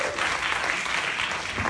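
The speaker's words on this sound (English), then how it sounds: "Give them a round of applause as they go to their seat." Steady applause from an audience at an evening wealth-collective talk, a dense wash of clapping that holds at even loudness throughout without letting up.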